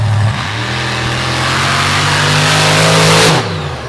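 A borrowed 427 standard deck block engine in a dirt drag racing car revs hard, a loud, close, steady roar climbing in pitch before cutting off sharply near the end.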